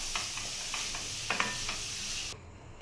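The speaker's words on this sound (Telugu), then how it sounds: "నేతిలో క్యారెట్లు కలర్స్ చేంజ్ అయిపోయేలాగా అట్లానే పచ్చివాసన రాకుండా చూసుకోండి, అట్లా వేగనిచ్చుకోండి" Grated carrots fry in ghee for carrot halwa, with a soft continuous sizzle and several light scraping strokes as they are stirred in the pan, fairly quiet and close.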